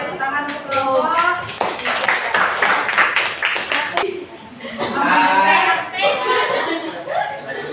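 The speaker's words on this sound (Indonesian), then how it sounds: "tepuk tangan untuk kelompok" A classroom of students claps for a presenting group, scattered clapping mixed with loud chatter, laughter and shouting voices throughout.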